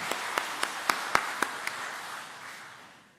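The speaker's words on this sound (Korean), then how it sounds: "하나님께 영광의 박수 올려드립니다." A church congregation gives a short round of applause during a Sunday service: a handful of distinct, evenly spaced sharp claps over a soft wash of scattered clapping that trails off.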